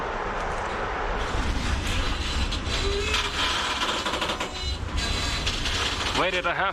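A freight train rolling past on a single-track line, a loud continuous rumble and rattle of wagons filling the whole stretch, with a brief squeal-like tone near the end.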